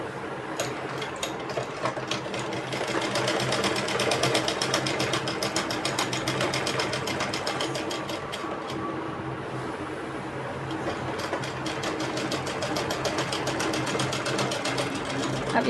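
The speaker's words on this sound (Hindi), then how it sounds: "देखो, अब इसमें हम सिलाई लगा रहे हैं।" A sewing machine stitches a trouser pocket, running in a steady, fast rapid rattle for the whole stretch, close and fairly loud with only brief slowdowns and no talk over it.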